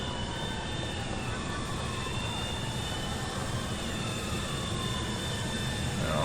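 Airplane engine in the video game GTA IV, a loud continuous jet roar on a runway with sweeping whine tones, steady throughout with no talk.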